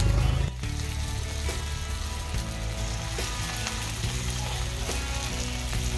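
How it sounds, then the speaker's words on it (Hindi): Ash gourd pakoras frying in hot oil in a kadhai at a Bengali street food stall, a steady close crackle and sizzle with faint metallic clinks running throughout. "इधर हम कढ़ाई बिठा दिए हैं और आप देख सकते हैं हम कैसे जो चाल कुमड़ा का जो पकौड़ा है हम बनाना चालू कर दिए हैं"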